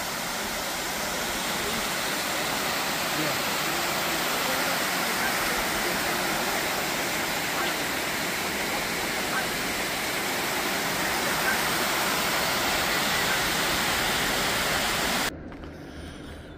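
Steady, broadband rush of water pouring over the Pymatuning spillway on an autumn day, a constant roar with no breaks that drops away abruptly near the end.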